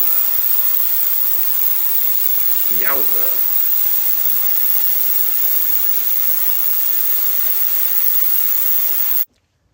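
Ultrasonic cleaner running steadily with a constant high, hissing whine while cleaning dirty four-barrel carburetor parts, then cutting off abruptly at the end; a man briefly exclaims partway through.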